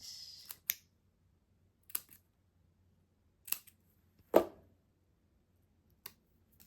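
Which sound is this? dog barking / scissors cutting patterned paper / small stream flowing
scissors cutting patterned paper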